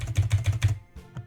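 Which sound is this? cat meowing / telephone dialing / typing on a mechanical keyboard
typing on a mechanical keyboard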